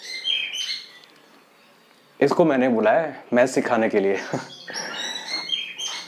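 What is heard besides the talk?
bird chirping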